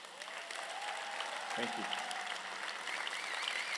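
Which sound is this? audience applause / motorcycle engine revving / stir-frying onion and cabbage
audience applause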